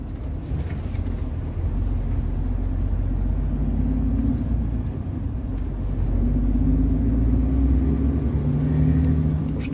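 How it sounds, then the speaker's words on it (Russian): A vehicle engine revs up while driving on the Omsk bypass road, a continuous low rumbling drone that builds gradually in strength, close and steady throughout. "Набираем обороты"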